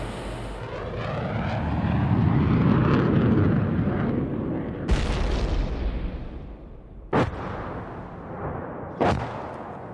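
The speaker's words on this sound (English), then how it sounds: "a Navy F-18 replied with 500-pound JDAMs" A Navy F-18 jet roars in for an airstrike, its loud rushing engine swelling and fading before three heavy, booming blasts from 500-pound JDAM bombs land a couple of seconds apart.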